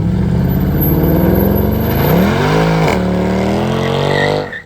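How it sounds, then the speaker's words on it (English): A Mercedes C63 AMG 507 Edition does a burnout, its engine roaring loud and close at sustained high revs with a rising and falling pitch and tire noise, before cutting off at the end. "This is probably the best car doing burnouts."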